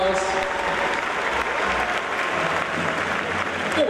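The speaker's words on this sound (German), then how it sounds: "dein Applaus" Audience applause at a costume contest, steady dense clapping from a crowd throughout, moderately loud and continuous with no pause.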